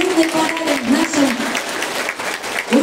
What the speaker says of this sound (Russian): Аплодисменты давайте бурные подарим нашим